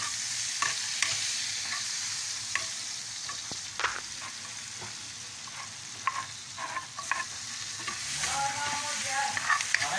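Onion and garlic sautéing for chop suey, a steady sizzle in the pan with frequent stirring scrapes and clinks of a utensil, close and continuous throughout.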